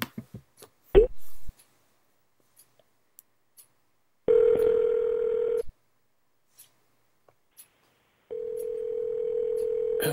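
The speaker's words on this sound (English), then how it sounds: "Let's do another manual dial" Telephone line tones during a manual dial in call-center dialer software: a few clicks, then two long steady ringback-style tones separated by a quiet gap, clean and isolated.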